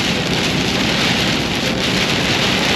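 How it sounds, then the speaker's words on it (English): Heavy tropical storm rain drums steadily on a car in Florida, a loud, dense, unbroken hiss and patter close around the vehicle with no pauses. "Now for bloody tropical storms all the time I've been in Florida."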